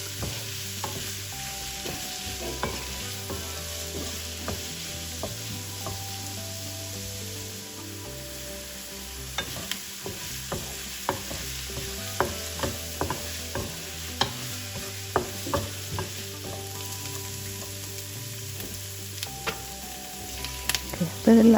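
Onion sautéing in oil left over from frying paneer for matar paneer, a steady hissing sizzle throughout with occasional soft pops and clicks of stirring, no talking.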